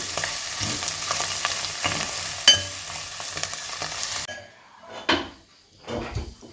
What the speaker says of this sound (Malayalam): അടുത്തതിനകത്തേക്ക് എണ്ണ ഒഴിച്ച് അമ്മ അടുത്ത പരിപാടി നോക്കുകയാണ്.